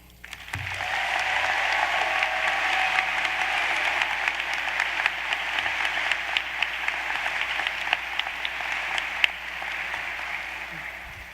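An audience at a 2018 matriculation ceremony bursts into steady, sustained applause, a dense wash of clapping that holds at an even level for several seconds in a large hall.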